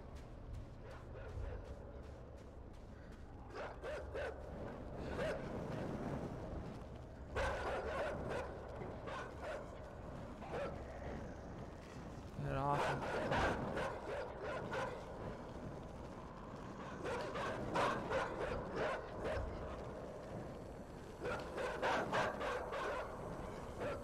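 Dogs bark in bursts in the side-scrolling video game INSIDE, with clusters of rapid, overlapping barks separated by stretches of low rumbling ambience, fairly quiet overall.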